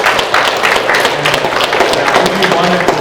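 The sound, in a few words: audience applause for Frank Lemire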